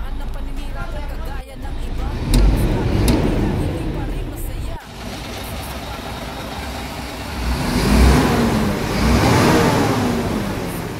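A remapped truck engine runs and revs during a road test, a steady loud rumble that rises in a couple of swells, with people talking throughout.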